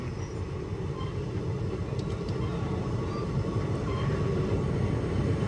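Train standing at Palakkad Junction, bound from Palakkad to Tuticorin, heard from across the platforms. A constant low rumble drones steadily throughout, with a few faint higher clicks.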